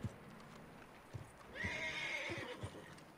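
Horse in Red Dead Redemption 2 lets out a single whinny midway through, fairly quiet, with soft hoof clops and faint game ambience around it.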